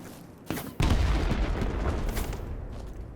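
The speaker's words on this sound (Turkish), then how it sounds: "Mermi geçti sağımdan solumdan." Gunfire and booming shots in the shooter BattleBit Remastered, a sharp crack followed by a dense, sustained roar of rapid fire and rumbling impacts close by, with no talk over it.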